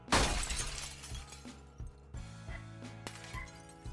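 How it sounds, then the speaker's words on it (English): Window glass shatters in the video game Project Zomboid with a loud initial crash, followed by scattered tinkling shards and a few smaller clinks over a low, steady game ambience. "Bust the window."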